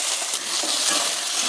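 Garlic, shallots and tomato sautéing in a pan for rasam, giving a steady, close, bright hissing sizzle throughout with no talk.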